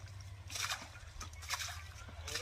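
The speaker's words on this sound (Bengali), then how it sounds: "দেখো জল ছেঁচে কিভাবে মাছ ধরছে কাদার মধ্যে" Water sloshing in a muddy village pond as people bail it out by hand to catch fish: repeated close splashing scoops in an irregular rhythm over a low background hum, with faint voices nearby.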